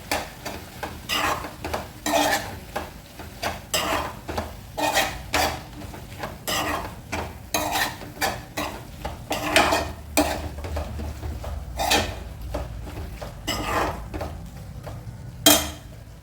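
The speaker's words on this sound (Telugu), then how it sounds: "ఇప్పుడు రుచికి సరిపడా కారం వేసుకొని బాగా కలుపుకోవాలి." A spoon scrapes and knocks around a pan of dried fish curry as chili powder is stirred in, giving steady rhythmic clinks and scrapes over a faint low sizzle, close and fairly loud with no talk.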